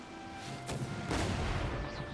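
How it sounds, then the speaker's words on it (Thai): A barrel explodes after being shot in Genshin Impact, a short sharp blast followed by a second rolling boom, loud against a low ambient game background. "ยิงใส่ถังให้มันระเบิด"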